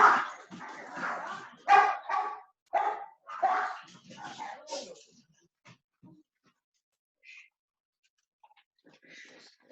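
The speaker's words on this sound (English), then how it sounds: "Hopefully you fast forwarded through the dog barking." Dogs barking indoors at home: a rapid, loud run of barks that gradually thins out into a few faint, scattered yips.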